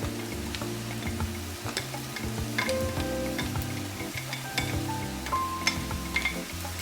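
Mushrooms sizzling in melted butter in a pan for a veggie lasagna, a continuous crackling fry with scattered pops and occasional soft stirring scrapes, close and moderate, no voices.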